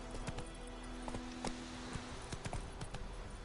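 Roach, a horse in The Witcher 3, moves on hooves in a brisk, irregular series of clip-clop hits, faint and close over a steady low hum.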